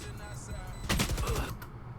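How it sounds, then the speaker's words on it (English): A burst of gunfire from the video game Valorant rattles out as a quick cluster of sharp shots in the middle of the clip, set against a quieter in-game background. "He heard the gunshots."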